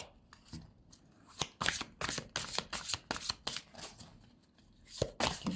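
Playing cards shuffled and riffled near the mic during a tarot-style card reading, a run of quick crisp flutters and snaps with short bursts, alone without talk.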